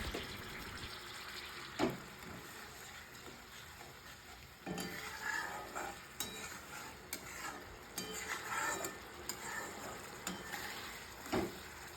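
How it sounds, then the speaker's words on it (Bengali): Quiet cooking sounds from an egg curry pan as a small splash of water goes in, with soft sizzling, a few sharp spoon scrapes and clinks scattered through, faint and close. "অল্প জল দেব বেশি না এটাকে আরেকটু কষাতে হবে তাই অল্প পরিমাণেই জলটা দেবো"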